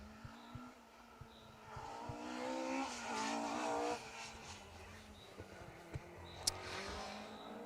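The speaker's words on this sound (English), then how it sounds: "so we've got the Opel Astra coming through" An Opel Astra rally car passes on an asphalt special stage of the Argyll Rally. Its engine note rises from a distance to a loud, revving pass, then fades away, with faint crowd or ambient noise around it.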